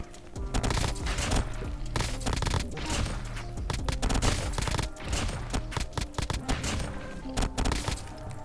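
Rapid bursts of automatic gunfire sprayed in a shooter video game while the player controls recoil, dense and loud with short breaks between volleys.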